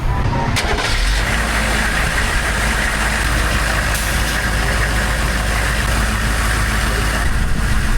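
An old military truck's engine cranks and catches, then settles into a loud, rough, steady idle that runs on close by with little change.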